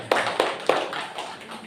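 A monthly religious study gathering claps briefly, with a few distinct claps followed by light, fading scattered clapping from the audience.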